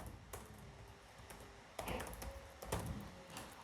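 Computer keyboard typing at a desk while an email address is entered during a WordPress website setup, heard as a few scattered key taps and short bursts of clicks, fairly quiet and close, with no talking.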